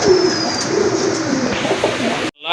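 A yellow gorra female pigeon, one of several fancy breed pigeons, coos in a steady low murmur close by, with chirpy bird sounds layered over it before a brief cut near the end.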